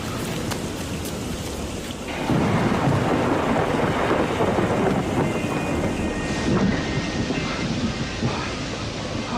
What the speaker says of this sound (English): It was for me the biggest and the strongest thunderstorm that I ever saw.